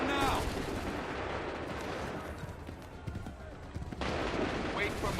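A musket volley in the video game Assassin's Creed 3 sounds as a dense, rumbling wash of gunfire, with shouted commands heard over it at the start and again near the end.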